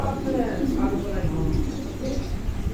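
Pigeons at a pigeon dealer's coo in soft, low, repeated rolling calls, close by, mixed with someone talking over them.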